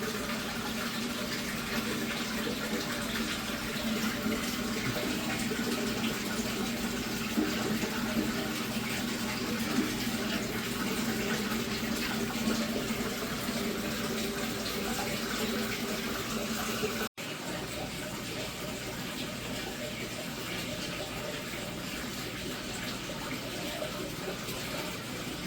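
Water pours steadily into a large aquarium tank as it fills, a continuous gushing rush that stays loud and even throughout with only a brief break near the end.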